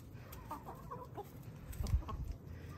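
Backyard chickens from two flocks being combined cluck softly in short scattered bursts, faint and close, over a low background rumble with no talking.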